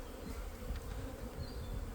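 Honeybees buzz steadily in a strong colony during a hive inspection, a dense, continuous hum with a few individual bees whining close by.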